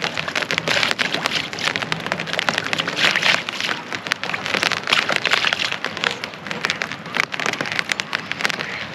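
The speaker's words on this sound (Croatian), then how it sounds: "Kišica pada, ja nema ništa." Light rain falls during a fishing trip in Ontario, Canada, a steady patter of drops with sharp ticks on nearby surfaces, close and continuous with no talking.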